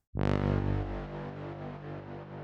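A synthesizer horn drone swells in suddenly, then sustains with a thick, processed texture and a lingering, echoing tail.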